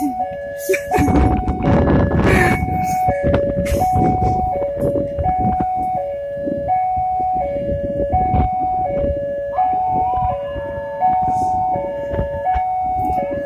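Repeated steady horn-like tones from a shunting train shift pitch in a pattern over rumbling machinery, with voices talking nearby.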